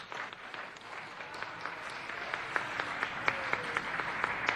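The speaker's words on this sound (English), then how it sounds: "Can we get a round of applause for Dodger?" A live audience applauds at a Los Angeles City Council meeting for Dodger, an adoptable dog shown on Dog Adoption Friday; steady crowd clapping with sharp individual claps poking through, sustained and building slightly over several seconds.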